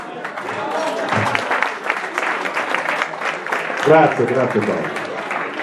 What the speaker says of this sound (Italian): l'unica cosa che posso dirvi è fare un applauso